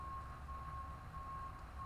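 Reversing beeps from dumpster trucks outside an apartment building, a steady repeating tone over a low truck engine rumble, moderately distant and continuous.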